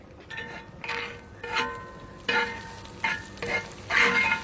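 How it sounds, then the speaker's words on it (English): Beef tenderloin sizzling over oak and hickory lump charcoal, close and fairly loud, its crackle swelling in repeated bursts as a spoon stirs and moves the food, with no talk. "You can hear that sizzle."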